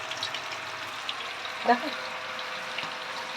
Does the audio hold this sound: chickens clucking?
no